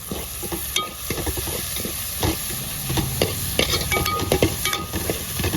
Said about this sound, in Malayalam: പച്ച അരിഞ്ഞു വെച്ച പച്ചമുളകും കൂടെ നമുക്ക് അങ്ങ് ഇട്ട് കൊടുത്തേക്കാം പടലാൻ വേണ്ടി